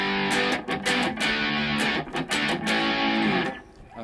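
An electric guitar plays through an AMD Distortion Station pedal, giving heavily distorted, sustained chords with a few short breaks and a fade at the end, loud and close with no voices.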